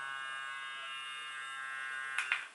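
Electric facial cleansing brush with 15 speed settings hums in a steady, thin, high buzz close by, with a couple of brief louder contact bursts near the end.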